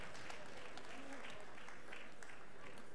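Audience applause at a woolhandling semi-final at the Golden Shears competition, a faint, continuous wash of clapping from a crowd heard at a distance.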